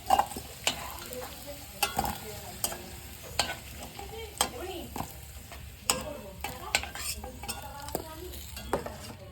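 Whole cumin, whole garam masala, dried red chillies and bay leaves crackle and sizzle in hot oil, punctuated by repeated sharp clinks and scrapes of a spoon stirring the pan.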